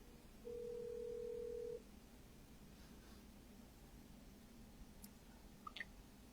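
On a quiet, hissy line, a single short steady telephone tone sounds once as a call is placed to a parent during a live radio phone-in, then only faint background noise remains.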